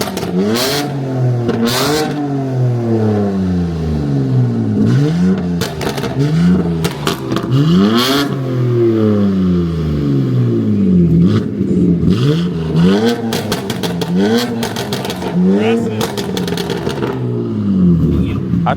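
BMW G80 M3 Competition with an IRL 3.5-inch modular catback exhaust revving hard again and again, loud and close, engine pitch sweeping up and falling back in repeated blips, with people talking over it.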